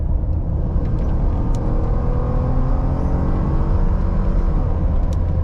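A lifted Ford F150 with an S&B cold air intake revs in sport mode, a steady deep engine rumble rising slightly in pitch, loud and close with no talk.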